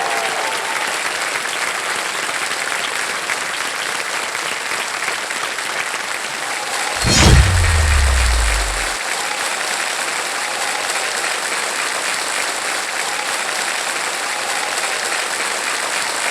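A studio audience at the KBC game show bursts into sustained, dense applause welcoming a guest, steady clapping from a large crowd filling the room throughout, with a brief low thump partway through.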